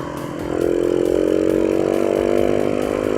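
A Honda CBR150 motorcycle engine runs close and loud with a steady buzzing drone, revving up slightly after half a second and then holding an even, raspy pitch.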